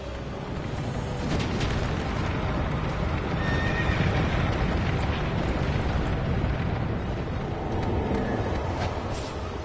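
Horse neighs and hooves thud in a Dark Souls 2 boss fight, over a dense, loud, continuous wash of game noise with rumbling booms and brief whinny-like cries near the end.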